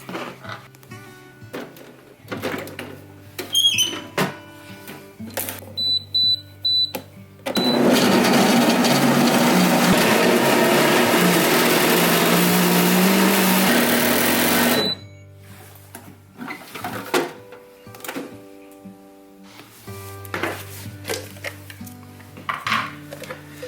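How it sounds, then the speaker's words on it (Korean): A blender roars loudly and steadily for about seven seconds, grinding potatoes with milk for soup, with clinking kitchen sounds and handling noises before and after. "이렇게 해서 믹서기에다가 갈아주세요"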